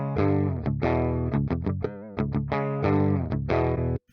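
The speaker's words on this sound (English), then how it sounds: "Starting to sound like an amp going through a cab." A heavily distorted metal guitar runs through free amp-sim plugins and a 4x12 cab impulse. It chugs out a choppy riff of palm-muted bursts and stabbing chords in an uneven rhythm, loud and upfront, then stops abruptly with no voice present.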